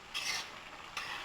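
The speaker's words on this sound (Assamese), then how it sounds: "অলপ লৰাই দিছোঁ।" Two short scraping strokes of a utensil stirring mixed boiled herbs in a cooking pan over a medium flame, close and fairly quiet, with a faint sizzle between them.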